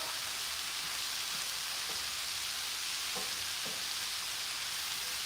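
Frozen fire-roasted corn cooks in a pan with a steady, close hiss of sizzling, broken by a few soft stirring knocks; no one speaks.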